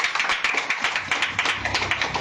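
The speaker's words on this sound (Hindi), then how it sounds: "ताली बजा सकते हैं?" Audience clapping hands in a rhythmic beat at a Christian healing worship gathering, steady repeated claps filling the space without speech.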